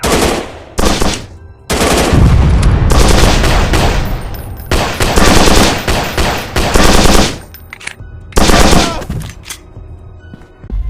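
Gunfire in a 3D mobile shooting game, with loud, close bursts of rapid automatic fire broken by short pauses and scattered single shots across the whole stretch.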